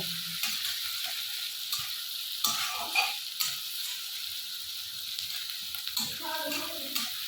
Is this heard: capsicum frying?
yes